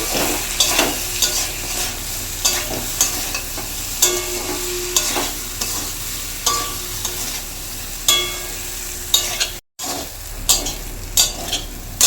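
A spoon stirs salted drumstick curry in a sizzling pan, scraping and clinking again and again in a steady rhythm over a soft frying hiss for about twelve seconds, with a brief gap near the end.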